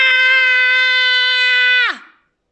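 A human voice imitates a creature screaming very loudly: one sustained, piercing high-pitched shriek held for nearly two seconds before it drops sharply in pitch and cuts off.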